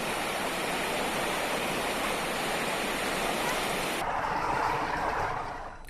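Loud, constant roar of the fast-flowing Suparni river in Uttarakhand, a dense broadband rush of water that changes character abruptly partway through and then fades slightly at the end, no talking.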